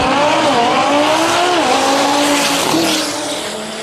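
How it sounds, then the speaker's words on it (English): An Audi TTRS and a Corvette launch off the line at a drag race, loud engines revving up with squealing tires, the roar fading slightly toward the end. "The Audi off the mark first, starting to put some distance between them and the Corvette"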